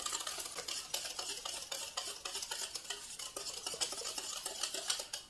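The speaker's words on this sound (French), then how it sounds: "Je procède à un rapide mélange avec mon fouet." A whisk beats quickly in a bowl while making marshmallow, a dense run of rapid metallic clicks and scrapes, close and continuous, with no talk.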